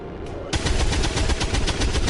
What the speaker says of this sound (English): because we're going to shoot into the ground.